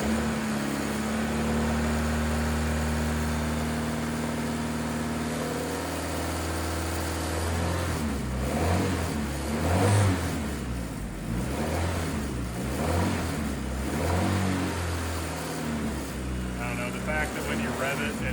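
A Champ Car Honda D16 turbo engine, smoking from oil, revs repeatedly in bursts, loud and close, after a steadier running drone, with people talking over it.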